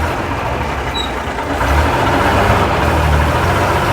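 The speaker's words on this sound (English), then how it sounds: "Oh, now I've got to do double the clutch back to second." A 1958 Leyland PD2 double-decker bus with manual transmission double-declutches into second gear. Its engine drones steadily and close, then rises to a fuller, louder rumble partway through.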